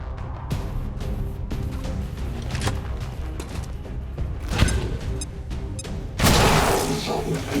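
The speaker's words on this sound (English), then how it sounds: "Explosions!" Bomb explosions from the video game XCOM 2, a dense stretch of booming blasts and crackling gunfire-like bursts with one loud surge near the end, over a busy game soundtrack.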